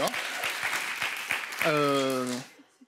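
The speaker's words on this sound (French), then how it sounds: "vous pouvez les applaudir" A French TV studio audience claps briefly, then a voice cuts in with a drawn-out spoken sound before the clip drops to near silence.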